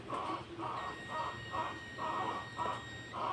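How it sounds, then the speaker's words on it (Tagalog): A transformer-type welding machine's buzzer sounds in steady repeated pulses, about seven evenly spaced beeps, with a faint high whine running through. "Dapat may beep yan. May buzzer."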